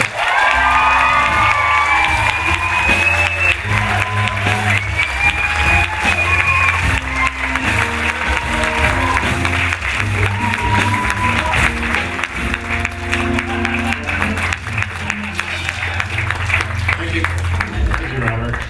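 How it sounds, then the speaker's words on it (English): A telethon crowd cheers, whoops and applauds loudly as actor Robert Downey Jr. enters, with shouts and voices mixed through a sustained roar of clapping. "why don't you guys give a big round of applause"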